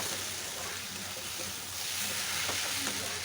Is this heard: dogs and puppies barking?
no